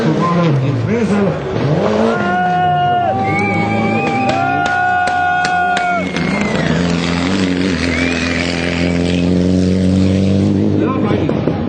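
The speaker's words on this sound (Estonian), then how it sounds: "Imre Saks järgis stardib siis Rainko Aru, Subaru Impresel." A Subaru Impreza rally car launches from the start at a sprint rally, its engine loud and close as it revs hard through rising pitches and gear changes, then fades into a steady, receding drone.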